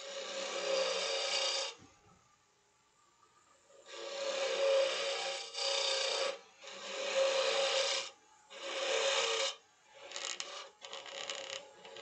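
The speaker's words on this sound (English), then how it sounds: "I'm just going to grab that spindle gouge one more time and just do some back cuts real quick." Spindle gouge making back cuts on a small wooden finger pot spinning on a woodturning lathe: bursts of loud, raspy cutting of several seconds each, separated by short quiet gaps.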